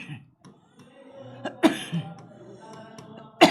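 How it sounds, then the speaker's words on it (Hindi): A man coughs twice in sharp, close bursts, separated by quiet breathing and faint room noise, during a spoken lesson. "तो मुझे आज खांसी आ गई पता नहीं कैसे"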